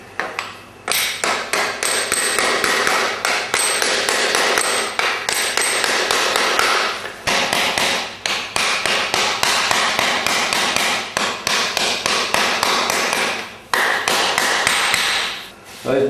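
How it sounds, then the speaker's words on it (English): A farrier's hammer clinches horseshoe nails on a hoof, a close, loud run of rapid metallic taps and pings in steady bursts with short pauses between them. "And then hammer clinch."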